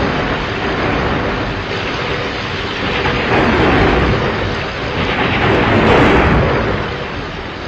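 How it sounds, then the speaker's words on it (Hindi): Heavy rain pours in a dense, steady roar with low rumbling thunder swelling through it, continuous and loud with no voices. "बहुत भयंकर बारिश हो रही है आज।"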